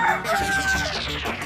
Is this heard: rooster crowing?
yes